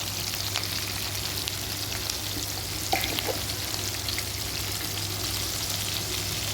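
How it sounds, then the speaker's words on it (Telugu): Masala paste for an eggplant curry fries in a pan with a steady, dense sizzle and crackle, close and continuous with no voices, plus a faint low hum underneath. "ఇది చాలా మంచిగా వేయించుకోవాలి."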